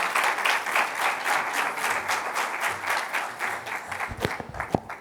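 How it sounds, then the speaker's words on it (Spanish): Audience at a transport forum at a cargo expo claps in welcome for a speaker, a full, steady burst of many hands that thins out toward the end, where a few low thumps and handling knocks sound close by. "pedimos un fuerte aplauso"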